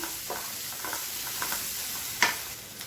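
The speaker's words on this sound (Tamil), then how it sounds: "இந்த வெங்காயம் வந்து ரொம்ப அப்படியே கோல்டன் கலரில் வதங்கணும்னு அவசியம் இல்லை, லைட்டாக வதங்கினா போதும்" Onions sauté with a little salt in a hot pan, giving a soft continuous sizzle with occasional stirring scrapes and one sharper clink, close and moderately loud, no talk.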